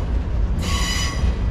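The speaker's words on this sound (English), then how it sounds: "I think they got a red light. They got a red signal. I think they're gonna stop." A Norfolk Southern freight train led by ES44AC locomotives slows toward a red signal at an interlocking, low rumbling rolling noise with a high steady wheel squeal rising partway through, fairly loud and close.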